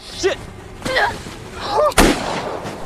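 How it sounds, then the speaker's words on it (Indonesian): A single sharp pistol shot from the film No Exit cracks out near the end, following a few brief voiced sounds. "mendengar suara tembakan pistol"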